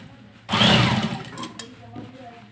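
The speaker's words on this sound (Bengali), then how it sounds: "এখান থেকে আমরা আবার উপর থেকে চাপ সেলাই দেবো" Sewing machine running a short burst of top-stitching on a kallidar panjabi, a close mechanical whir starting abruptly and fading after about a second, with someone speaking alongside.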